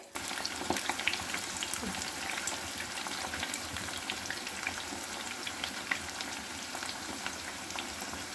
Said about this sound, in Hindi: इस स्टेज पर हम गोभी को फिर से तेल में डाल देंगे। तेल अभी हमारा गरम है।